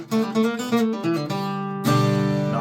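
Vintage Gibson L-00 acoustic guitar playing a bluegrass G-run lick at a quicker pace, a brisk run of picked single notes ending on a ringing strummed chord, close-miked with no voices.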